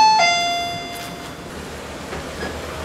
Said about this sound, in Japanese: 一旦ちょっとピンポンだけ鳴らすわ。